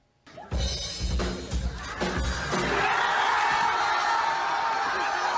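A large crowd cheers and roars loudly for a cover of a song, the noise swelling from a quiet start into a sustained wash of applause and shouting, with a few thumps near the beginning.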